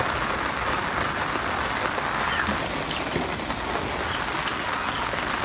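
Rain falls steadily outside while achari pulao cooks, a soft even patter of drops on a surface that goes on throughout at moderate distance, with no talk.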